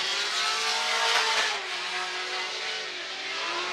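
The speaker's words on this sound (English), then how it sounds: "A great symphony of an exhaust note ripping past." Fuel Lab Corvette V8 drift car at a Formula Drift event rips past with a loud, raspy exhaust note, rising then easing as it passes, tire noise mixed in.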